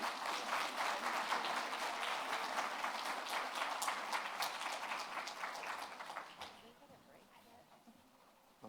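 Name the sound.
audience applause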